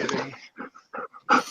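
A dog whimpers and pants close by in a few short bursts, with a person's voice heard at the start.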